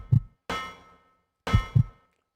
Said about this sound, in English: we got the heartbeat running and racing and everything